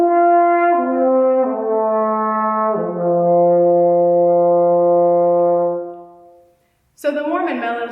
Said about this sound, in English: out into a beautiful, mellow, and warm tone